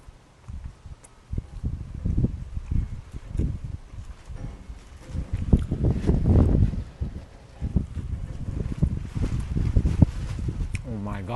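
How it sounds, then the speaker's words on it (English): Strong gusts buffet an outdoor microphone, producing a low, uneven rumble that swells and fades across the whole stretch, with a person speaking intermittently. "Oh my God, the wind."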